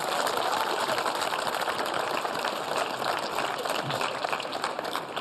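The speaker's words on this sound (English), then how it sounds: "How about a clap for that?" A TV interview audience applauding, with dense rapid clapping that holds steady for several seconds, moderately loud with a faint murmur of voices beneath.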